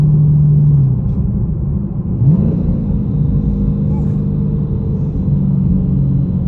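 A 2021 Dodge Challenger Scat Pack Plus with a six-speed manual accelerates in second gear at part throttle, its engine a loud, steady low rumble that climbs in pitch from inside the cabin.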